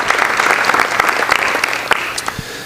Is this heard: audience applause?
yes